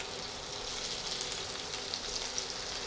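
Garlic frying in hot ghee, a steady close hiss and sizzle with faint crackling pops, continuous throughout with no talking.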